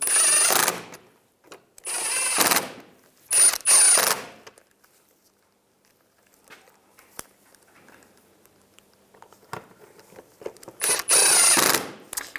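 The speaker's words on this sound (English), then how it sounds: "get these two screws started on both sides. Tighten them down." Screws being tightened underneath a 2010-2017 Chevrolet Equinox during a fog light wiring kit install, heard as several loud, close bursts of ratcheting driver whir separated by quiet gaps and faint handling clicks.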